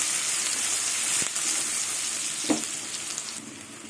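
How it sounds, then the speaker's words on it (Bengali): Onions frying in oil in a pan with salt added, a dense steady sizzle, close, with a couple of brief stirring knocks. "পেঁয়াজগুলো লাল লাল করে ভাজবো"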